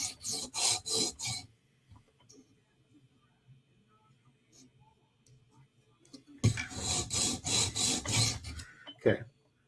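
A custom Para 3 knife is sharpened on a TSProf Kadet sharpener, with two runs of rhythmic rasping stone strokes close up, separated by a quiet stretch with faint handling clicks.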